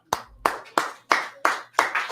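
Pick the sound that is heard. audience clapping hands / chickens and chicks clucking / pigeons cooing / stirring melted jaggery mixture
audience clapping hands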